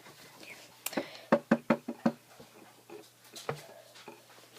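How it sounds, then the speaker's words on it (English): Several sharp knocks rap on a window indoors, a quick cluster of four or five close, fairly loud taps followed by a few softer scattered ones, with no talking. "Someone's knocking at my window."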